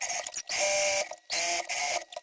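A sewing machine stitches across the bottom of a piece of fabric in three short bursts of whirring, each cut off by a brief pause, and no one speaks.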